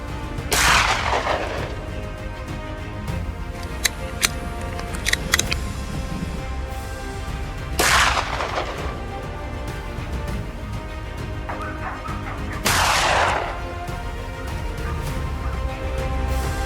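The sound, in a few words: 22 LR rifle gunshots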